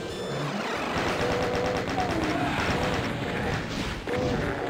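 A chaingun fires in the classic shooter The Ultimate Doom, a steady, rapid stream of loud, close shots lasting several seconds without pause.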